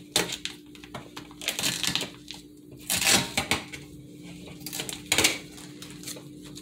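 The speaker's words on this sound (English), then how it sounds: "Sorry, I'm doing lots of tape." Tape being handled and pulled from a roll during a fridge replacement: irregular crackling rips and rustles in several bursts, fairly close, over a steady low background hum, with no talking.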